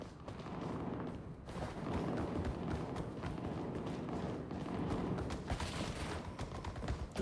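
Gunfire in a zombie survival video game: dense, continuous volleys of shots overlapping into a loud rattling barrage that barely lets up for several seconds.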